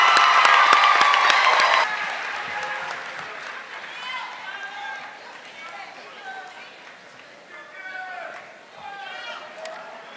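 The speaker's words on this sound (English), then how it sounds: "And let's give them a round of applause" At the East Ridge High School 2018 graduation, the audience applauds parents and guardians. A loud burst of clapping and cheering opens, then fades into a murmuring crowd with scattered voices and shuffling.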